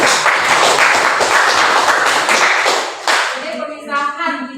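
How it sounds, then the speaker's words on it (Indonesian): A classroom full of people claps steadily for a few seconds, then the applause fades into scattered claps and murmuring voices. "Ya, tepuk tangan lagi untuk."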